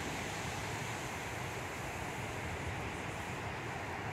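Ocean surf at Praia da Macumba beach with about one-metre swell rolling in, heard as a steady, continuous broadband wash mixed with wind noise and no distinct breaks standing out.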